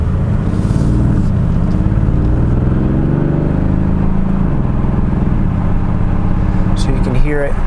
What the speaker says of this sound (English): You can hear it, you know, downshift and rev match there.